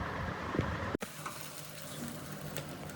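Chopped okra and green chilies fry in hot tempering oil for sambar, giving a steady, close sizzle with a sharp break and fresh burst near the one-second mark.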